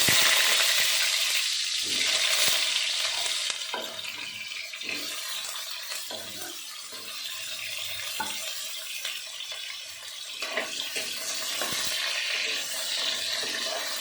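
Potato pieces fry in hot oil in a karahi, with a dense, continuous sizzle and frequent scraping stirs up close that grow and fade over the whole stretch.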